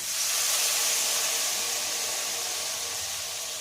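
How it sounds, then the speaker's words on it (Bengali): Water boils in a pan with potatoes and turmeric for a bhetki fish-bone chorchori, giving a steady, even hiss that stays constant throughout with no talking. "জল ফুটছে"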